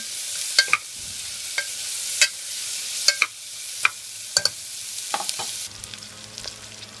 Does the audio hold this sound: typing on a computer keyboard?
no